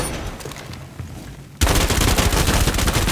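Rapid gunfire in Rainbow Six Siege, Oregon map in Secure Area team deathmatch: a quieter stretch of scattered shots gives way halfway through to a loud, sustained burst of close automatic fire that runs to the end.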